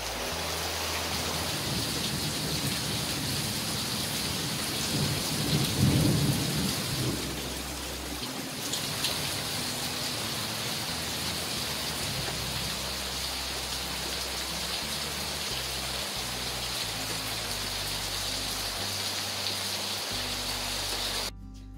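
A steady rain keeps falling in an even hiss across the whole stretch, with one low roll of thunder near the middle, and no one talking.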